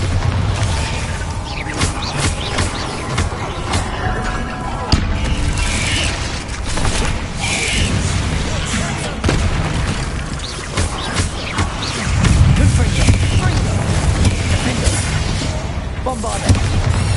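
Repeated Bombarda blasting-spell explosions in the Hogwarts Legacy video game, loud booms and crashes layered with combat effects, with a voice calling out spells over the din.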